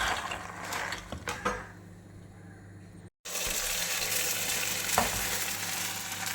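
Cut tomatoes and soaked chickpeas for a Kerala-style kadala curry frying in a pan, a steady close sizzle with brief stirring scrapes and a short pause partway through.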